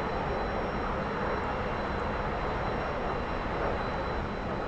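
A T-45 jet trainer's engine in the DCS flight simulator, run at higher throttle, gives a steady, loud, broadband roar that holds evenly without a break.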